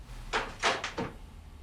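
A door to an upper level in a house under restoration opens with a few short, close bursts of creaking and rattling within about a second, against quiet room tone.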